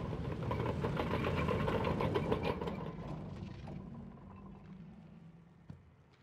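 A Sherman tank engine in Company of Heroes 3 rumbles loudly at first, then settles into a quieter low idle that fades, with a small knock near the end.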